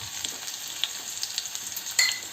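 Garlic, cumin and black pepper frying with onions in a pan for an anchovy gravy, a continuous sizzle with soft, irregular stirring clicks and a brief louder crackle near the end.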